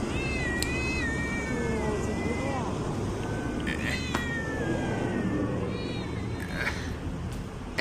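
Cats shut in bags in China meow and caterwaul again and again, several rising and falling wails overlapping over a dense background of crowd babble and noise.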